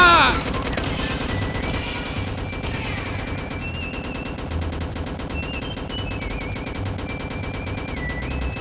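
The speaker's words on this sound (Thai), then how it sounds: "มันยังยิงไม่เลิกอยู่เลย" Rapid, sustained gunfire from the Roblox game A Dusty Trip, a dense, loud stream of machine-gun-like shots that runs without pause, with a high electronic whine wavering over the shooting.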